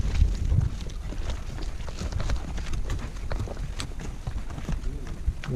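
Donkey hooves clip-clop on a mountain road near Kookal, Kodaikanal, as irregular knocks under steady wind buffeting the microphone, with voices at times.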